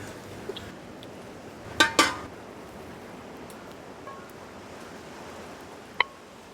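Metal clanks come from handling the lid of a large uruli pot in a home kitchen, with two sharp knocks close together early on and a single light clink later against quiet background.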